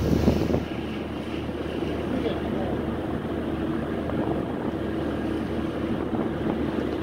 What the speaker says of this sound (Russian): На шум винтов идут.